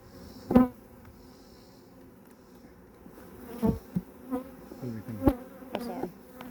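Honey bees buzz close around a wooden beehive with wax stuck to its side, a steady insect drone punctuated by several louder thumps and knocks.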